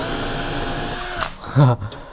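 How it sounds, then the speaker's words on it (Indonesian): A 12V DCK KDJZ1202 cordless drill driver bores into lightweight brick with an S6 masonry bit, giving a steady, loud motor whine for over a second before it cuts off, with brief speech and handling noise afterward. "Sekarang kita coba untuk ngebor beton ya. Bukan beton sih, tapi bata ringan aja lah."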